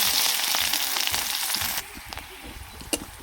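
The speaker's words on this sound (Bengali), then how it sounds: "পেঁয়াজটা ভাজা হয়ে গেছে।" Chopped onion and dried red chillies fry in mustard oil in a kadai, a loud, bright sizzle that drops to a quieter bubbling crackle partway through, with a stir or scrape near the end.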